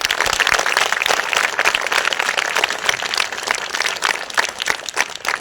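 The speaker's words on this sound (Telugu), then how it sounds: "బిగ్ రౌండ్ ఆఫ్ అప్లాజ్ మా" A round of applause from an audience at a school training program, brisk dense clapping that stays loud throughout, with no one speaking over it.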